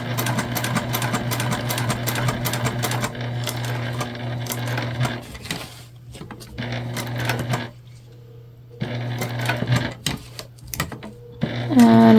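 A sewing machine backstitches a seam on a shoulder bag made from recycled material, running in bursts of fast rhythmic stitching with short pauses between runs, close and clear.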